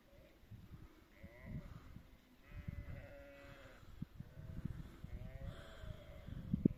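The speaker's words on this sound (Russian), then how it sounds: "Козы лазят." Goats bleat several times at close to moderate distance near Ainakul Lake in the Arashan lakes, wavering calls over rustling and faint background voices.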